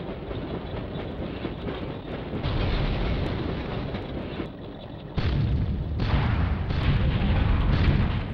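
Tank cannon fire and explosions in BattleTanx Global Assault, loud dense rumbling blasts with several sharp onsets and heavy booms layered over continuous roar, no talk.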